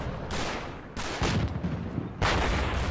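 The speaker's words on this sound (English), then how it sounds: "that 50 cal is chattering over here" A .50 cal machine gun chatters in a WWII Normandy farmhouse battle in Combat Mission, heard as loud, dense bursts of gunfire that start and stop in a few separate volleys.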